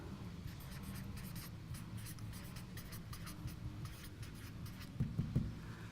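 Pen drawing a heart on paper, a soft, close scratching that runs steadily across the page and ends in a few firmer strokes, quiet and alone without talk.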